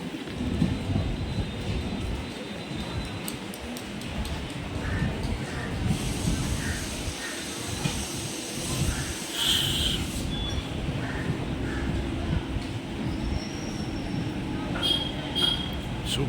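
A local train to Egmore, Chennai, rumbles past near Mambalam station at a steady roar with rhythmic rattling and brief high squeals, heard from a nearby skywalk bridge over broad outdoor noise.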